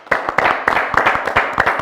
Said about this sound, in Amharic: ከመናገሬ በፊት አጨብጭቡ በድጋሚ